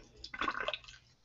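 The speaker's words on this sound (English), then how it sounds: "So we're going to pour some of our tincture." Liquid tincture poured briefly over ice cubes in a glass, a short faint trickle and splash lasting about a second in a quiet room.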